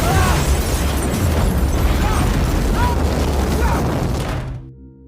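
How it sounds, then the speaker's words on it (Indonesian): A loud, sustained explosion from a disaster film scene rumbles and roars for about four seconds as the ground shakes, then cuts off abruptly. "disusul dengan guncangan yang cukup besar disertai dengan suara ledakan"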